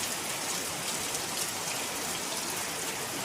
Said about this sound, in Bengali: দেখুন কীরকম বৃষ্টি হচ্ছে।